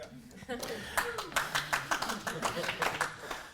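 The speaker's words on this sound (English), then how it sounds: "That always gets a good clap, at least here in California." Audience clapping during a conference closing plenary, a ragged run of distinct claps with uneven rhythm, heard under and after talking near the start, at moderate loudness.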